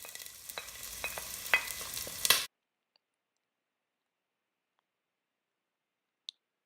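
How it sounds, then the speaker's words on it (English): Chopped onion stir-fried in a pot for egusi soup, giving a soft sizzle with light stirring scrapes for a couple of seconds before cutting to near silence, broken by one faint late click. "Add in some chopped onion, stir fry and allow to cook for 30 seconds."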